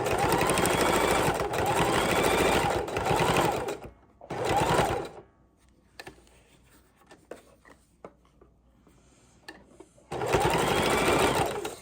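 A sewing machine runs a small zigzag stitch along lace trim on a junk journal cover, sounding in close, steady bursts of a few seconds each, with a quiet pause midway filled by faint handling noises.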